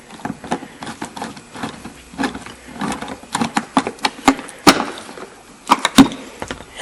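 Bolt being screwed tight into the rear strut assembly of a 2008-2013 Toyota Highlander, with a series of sharp ratcheting clicks and metallic taps, close and moderately loud, coming in irregular bursts with no talk.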